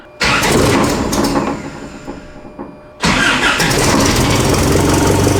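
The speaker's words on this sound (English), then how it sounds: "Now the truck is still going to start because there's still fuel in the carburetor." A truck engine fitted with dual carburetors cranks, catches and runs, stumbles briefly, then roars back up to a loud, steady idle close by with no talk.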